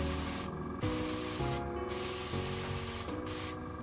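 An airbrush compressor kit sprays mica onto bath bombs. Short bursts of airy hiss start and stop over a constant low compressor hum, close up and with no voices.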